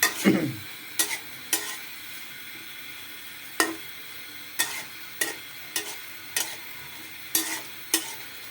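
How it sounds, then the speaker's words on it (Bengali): Tomato chutney is stirred gently in a pan, sharp spoon taps against the metal recurring at irregular intervals over a soft, low simmering sizzle. "ঠিক আছে, আলতো করে নেড়ে দিলাম।"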